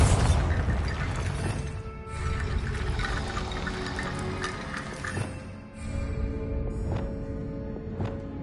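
Bombarda blasting spell cast in Hogwarts Legacy, a dense roaring burst that rumbles loudly for several seconds, dips briefly, then swells again with a few sharp crackling pops near the end.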